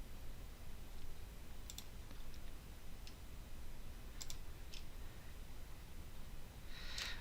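A few sharp computer mouse clicks, spaced apart and faint, while patterns are selected in a pattern database on a computer, over a low steady background hum.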